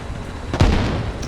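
Heavy helicopter gun firing in Arma Reforger, a single loud boom at the midpoint over a steady rotor-like rumble, with no voices.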